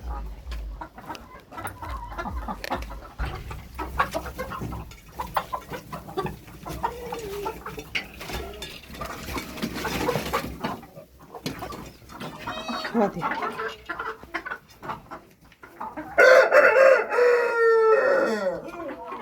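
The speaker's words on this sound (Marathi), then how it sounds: "हे बघा इथं बसल्या लंगडी कोंबडी आणि ही सगळी इथं आत आहे" Hens, including a lame one, cluck and chatter around a farmyard while someone talks, and a loud rooster crows near the end.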